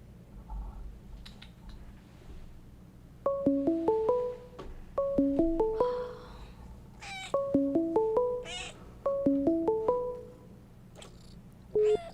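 A cat meows close by in a steady rhythm: four bursts of quick, stepped meow-like calls with short pauses between them. Faint clicks and a low hum sit underneath.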